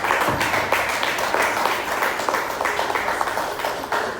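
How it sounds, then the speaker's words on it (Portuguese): A church congregation applauds during a Sunday service before communion, a dense, sustained burst of many hands clapping loudly and evenly for several seconds. "Você pode aplaudir o Senhor?"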